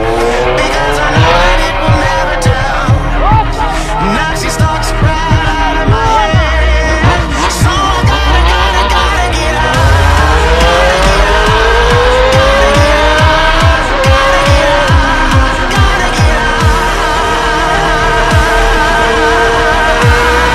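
A motorcycle rides along a road with a steady, loud engine drone whose pitch rises and falls through gear changes, punctuated by rattles and wind buffeting for about twenty seconds.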